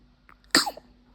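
A single sharp sneeze, likely from a newborn or someone nearby in a home with a new baby, bursting out loud and close after a faint breathy sound, then fading into quiet.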